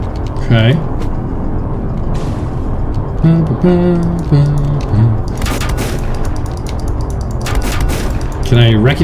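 Bursts of gunfire crackle and boom amid heavy action in the steampunk survival game Volcanoids, with scattered sharp cracks and rumbling blasts over a busy, loud background.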